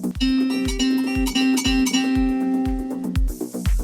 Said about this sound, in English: The 3:2 perfect fifth ratio